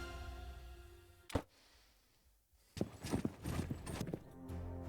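A horse moves in Sherlock Holmes: Crimes and Punishments, with a few hoof clops and a faint whinny heard in bursts over game music, separated by a quieter pause in the middle.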